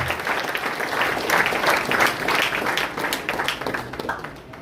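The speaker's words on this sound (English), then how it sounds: "another round of applause for Prof" A crowd at a skills training gathering in Sunyani claps together, a dense, busy rattle of many hands, close and steady before easing slightly at the end.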